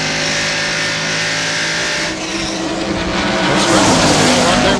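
NASCAR stock cars race at Darlington Raceway in the 1995 Southern 500, including Bobby Labonte and Rusty Wallace's Miller Genuine Draft Ford. A loud, continuous engine roar fills the clip and swells as cars pass close by.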